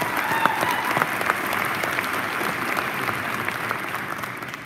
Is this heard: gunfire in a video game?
no